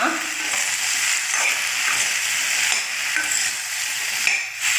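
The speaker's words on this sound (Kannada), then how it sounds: "ಇದು ಸ್ವಲ್ಪ ಫ್ರೈ ಆಗಲಿ" Salted okra fries in a pan with a loud, close, continuous sizzle, while a utensil stirs and scrapes through it at irregular moments; no one speaks.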